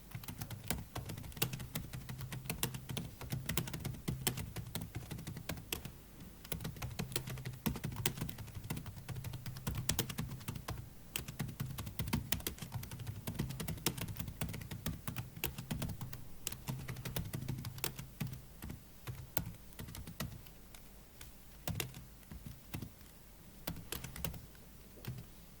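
Fast, steady typing on a computer keyboard during a touch-typing speed exercise, dense clicking keystrokes continuing for the whole stretch with a low background hum underneath.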